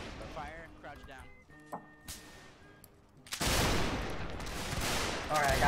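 A musket volley bursts out in the North and South game, a sudden loud crackling roar of many shots at once after quieter battlefield sounds, with someone talking over the scene.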